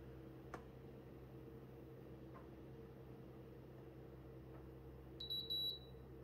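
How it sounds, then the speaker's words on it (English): A Mr Coffee pod and 10-cup coffee maker combo brewer signals that brewing is finished with three quick, high, not very loud beeps near the end. Before them the room is quiet, apart from a low hum and a few faint ticks. "so it does beep at you. There are three quick beeps."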